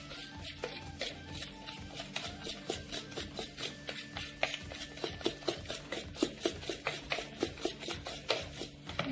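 Pancake batter made with rolled oats and semolina being beaten in a bowl gives a fast, even run of soft rhythmic strokes that grow slightly louder near the end, close by and with no voices.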